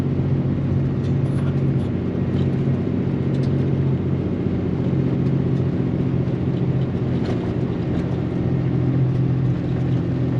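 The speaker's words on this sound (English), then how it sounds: "It's got a steep hill to climb. This pickup better decide it wants a downshift here sometime soon." Pickup truck towing a trailer up a steep hill, its engine giving a loud, steady low drone that holds without a break throughout.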